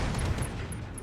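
Mech weapons in the Roguetech video game fire in a short, rough burst of gunfire-like blasts, a dense noisy crackle lasting about a second.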